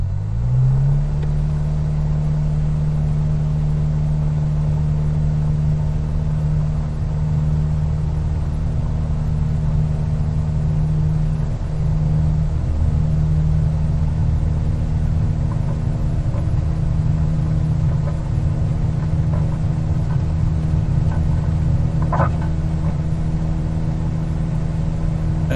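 An aircraft engine in Microsoft Flight Simulator over Auckland, spooling up for takeoff: a steady, loud droning hum that rises at the start, then holds a constant tone with rumble throughout, no talking.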